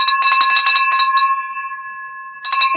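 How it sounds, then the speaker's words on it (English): A handheld brass bell rung in celebration of a closed real-estate deal, with a burst of bright clanging strikes, a ringing decay, then another clang, loud and close with no talk. "Ring that bell. Ring it twice."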